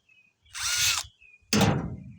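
A power drill backs screws out of an aluminum screen door in two loud, close whirring bursts separated by a short pause.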